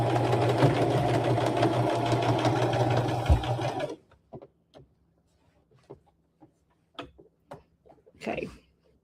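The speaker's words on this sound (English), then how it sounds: "So I'm going to start and then I'm going to back stitch, okay?" A sewing machine runs steadily for about four seconds, stitching and back stitching a rag quilt, then stops, leaving a few light clicks and handling taps nearby.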